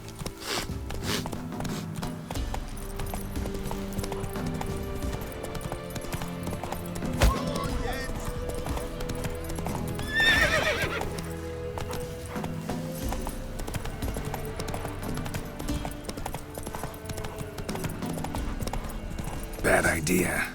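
A horse in The Witcher 3 clip-clops steadily through a busy game soundtrack and ambience, with a brief neigh or whinny rising midway and speech in the mix.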